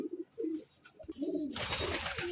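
Pigeons kept by a Bangladeshi keeper coo in a few soft, low rolling calls up close, followed by a burst of broad rustling noise.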